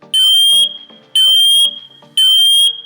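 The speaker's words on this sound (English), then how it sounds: "The alarm will sound and the red LED will flash." A MATelec DET-SMK/AC/1 smoke alarm sounding its test signal: three loud, shrill, evenly spaced beeps about a second apart, close and alone.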